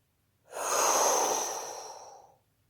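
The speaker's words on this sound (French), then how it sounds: "Et souffle pour chasser toutes tes tensions." A person lets out one long, deep, breathy exhale during a relaxation exercise, close and soft, swelling quickly then tapering off over about two seconds.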